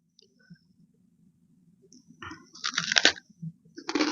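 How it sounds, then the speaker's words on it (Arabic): Someone chews crunchy dried passion fruit in short bursts of close, crisp crackling that grow denser toward the end. Quiet gaps and soft mouth sounds come between the bites. "كل الفواكه مقرمش"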